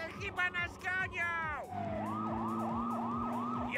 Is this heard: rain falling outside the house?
no